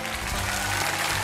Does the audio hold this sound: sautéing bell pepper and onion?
no